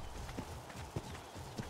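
Horse hooves clop in the Ark Aberration video game, three soft, evenly spaced footfalls over a low ambient game bed, fairly quiet and close.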